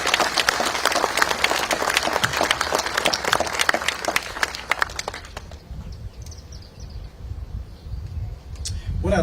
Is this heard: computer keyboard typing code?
no